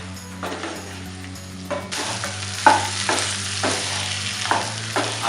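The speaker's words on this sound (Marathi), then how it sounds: "पाय चांगल्या मसाल्यामध्ये गुळून घेऊया" Goat trotters frying in spicy masala for mutton paya rassa, a steady close sizzle broken by repeated scraping stirs, growing louder partway through with no voices.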